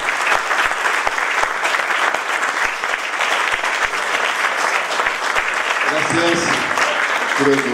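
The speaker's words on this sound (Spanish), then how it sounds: "les pido a ustedes un fuerte aplauso para agradecer" An audience at a formal gathering applauds steadily for the whole stretch, dense clapping that is loud and continuous, with a voice starting to speak over it near the end.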